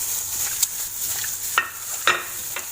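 Coriander stirred into chicken satay seasoning frying in a pan, with a soft continuous sizzle and a few light scrapes and clinks of the spoon against the pan.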